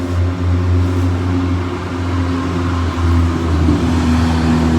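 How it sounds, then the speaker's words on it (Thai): A car with a modified loud exhaust pipe drones nearby in a steady, deep, low rumble that holds for several seconds with no talking. "รถยนต์นี่แหละ เอาไปแต่งเสียงแต่งอะไรนะ ท่อนะคะ"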